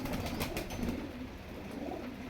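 Teddy pigeons, a pure Khalsa breed, cooing steadily in low soft murmurs close by, the coos blending into a continuous warbling hum without pauses.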